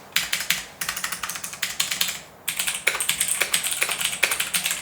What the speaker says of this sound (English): this is a very clicky keyboard